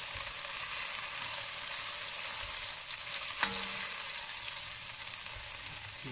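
Butter melting with oil in a pan for French onion soup gives a soft, steady sizzle and hiss throughout, with one brief metallic clink partway through and no voices.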